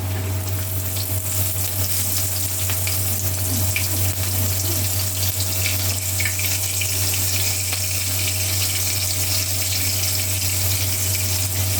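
Small fish sizzle and crackle steadily in hot oil in a home kitchen in Hong Kong, a dense, continuous frying hiss with a low steady hum underneath and no talking.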